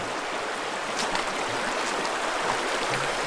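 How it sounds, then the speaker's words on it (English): Rushing river water at a ford on a Glen Etive hike in the Scottish Highlands, a steady, close, broadband stream rush with faint splashes as someone wades across on foot. "I think we found the spot we're going to ford the river, so let's do this."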